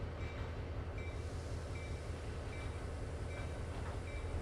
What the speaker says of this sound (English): Who is that? Another train.